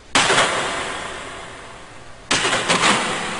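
Two loud, close gunfire blasts for a documentary on the 1932 revolution, each a sudden broadband crack that decays into a long rolling reverberant tail, the second with a few follow-up reports.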